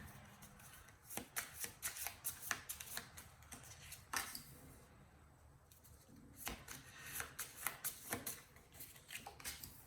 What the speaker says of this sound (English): let me pull some cards for the karmic